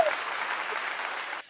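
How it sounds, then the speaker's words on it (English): A short burst of canned applause plays as a sound effect on a podcast, a full, even wash of clapping lasting just over a second before cutting off. "You need a big applause."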